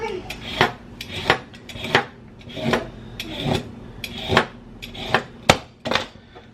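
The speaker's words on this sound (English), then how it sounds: "So I'm going to go ahead and peel this." Carrots are scraped with a peeler, giving about a dozen rhythmic rasping strokes that each end in a light knock, close and clear, with no talking.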